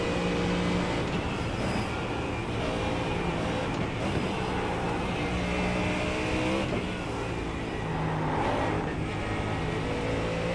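Radical SR10 race car engine in iRacing at Road America: a steady, high-revving whine that rises and falls through gear changes, continuous and close, with brief light talk underneath.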